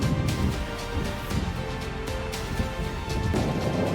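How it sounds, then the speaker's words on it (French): Strong wind roars steadily through a snowstorm in mountain terrain, a loud broadband buffeting rush with gusts swelling and easing throughout, no voices heard. "Je sais même pas si on m'entend tellement il y a du vent"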